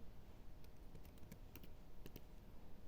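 Keys tapping on a computer keyboard while a folder name is typed, a quiet run of light, uneven clicks over low background hum, with no talking.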